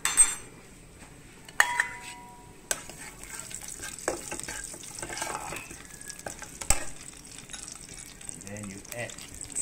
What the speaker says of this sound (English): this is for us to roast some or fry some sesame seeds